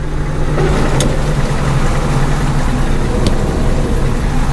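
A John Deere 8820 combine's engine runs steadily at idle, a constant low rumble with a faint hum, heard close and without a break.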